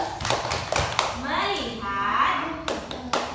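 Preschool children clapping the tepuk fokus rhythm in a classroom, with bursts of crisp, close claps at the start and end and voices chanting in between.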